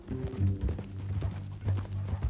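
Horse hooves clip-clop in Red Dead Redemption 2, a brisk close run of uneven thuds under a low steady tone, with faint voices.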